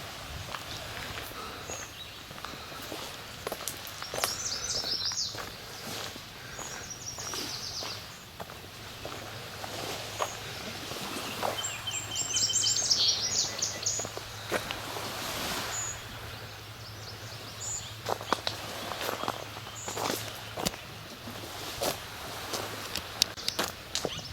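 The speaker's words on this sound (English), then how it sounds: "There are lots of birds in the background." Birds at the lighthouse point of Presqu'ile Provincial Park in Ontario, repeated high chirps and short calls scattered across the scene, fairly distant, over footsteps and a low steady hum.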